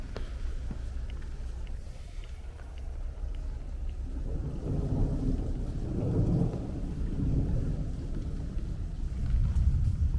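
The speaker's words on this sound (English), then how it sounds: "so you guys can hear the rumbling of the thunder" Thunder rolls low and long over a tree-lined street in Bay Ridge, Brooklyn, during a rainstorm, a deep rumble that swells and fades across several seconds beneath a soft wash of rain.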